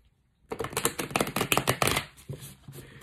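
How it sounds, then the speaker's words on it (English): A Wild Unknown tarot deck with matte-finish cards is riffled and shuffled up close, a quick run of crisp flapping clicks after a moment of silence. "Shuffles nicely."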